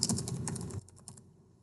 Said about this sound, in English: So then you're going to type in your title